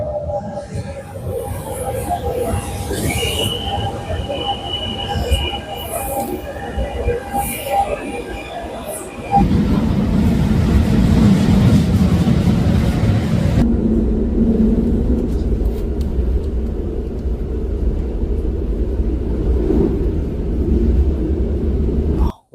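A train passes at a station near Paris, its low rumble and rolling clatter swelling suddenly loud and close midway, then grinding on steadily before cutting off.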